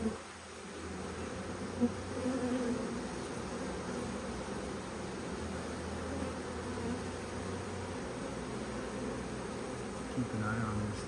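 A large honeybee swarm in a garden hums in a dense, steady drone that stays close and even throughout, with a few soft rustles underneath.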